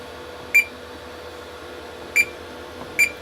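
Smoke detector on a fire alarm system under test gives three short sharp high beeps, spaced unevenly, over a faint steady room hum.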